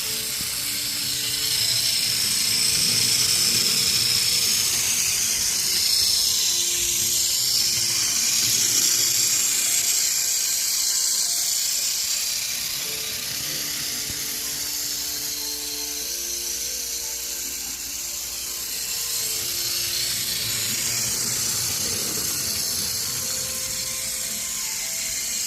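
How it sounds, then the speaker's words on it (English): A broken-buffer Hit Toys Gordon toy engine runs on Plarail track pulling coaches, giving a steady whirring, clicking motor drone that rises and falls as it circles. "Okay, I got the broken buffer Hit Toys Gordon up on the track"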